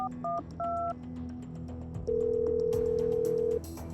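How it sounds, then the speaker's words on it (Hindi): A few short touch-tone beeps are dialed, then a steady single tone rings out for over a second, followed by faint clicks; no voices. "उसने डॉन को फोन लगाया।"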